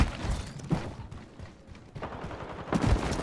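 Gunfire in the video game Apex Legends comes as several rapid bursts of cracking shots with thuds, separated by brief lulls, at a moderate level.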